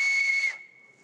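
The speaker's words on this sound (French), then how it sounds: "En fait, ce sont des sifflets de la préhistoire." Prehistoric bone whistle, a small pierced bone, blown once close up, giving a clear sustained breathy tone that lasts about half a second and then fades into a faint lingering pitch.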